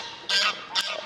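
Ducks call close by in two loud, brassy honks, a longer one and then a shorter one, standing out clearly over a quiet background.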